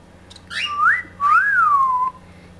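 A person whistles two rising-and-falling tonal phrases, one short and one longer, close up and fairly loud, with a faint low hum behind them.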